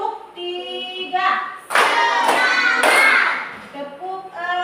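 Children clap together in a classroom, a few loud rhythmic bursts of group clapping between stretches of a teacher's spoken counting and children's voices.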